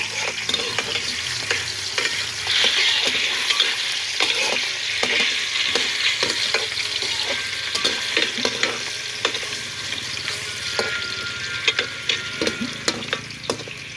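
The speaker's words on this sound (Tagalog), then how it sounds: "haluin po natin ang ating patatas." Potatoes frying in a pan give a steady, loud sizzle, while frequent spatula scrapes and taps from the stirring cut through it, close up and with no talking.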